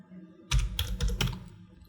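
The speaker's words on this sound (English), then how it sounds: "hit Ctrl plus a space bar for search box and search for glow" A few keystrokes on a computer keyboard, entered as a search, give a short burst of close, moderately loud clicks over a faint background hum.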